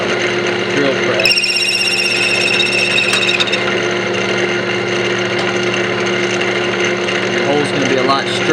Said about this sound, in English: drilling on the lathe is way more effective, less time consuming, it's all around better than drilling on a drill press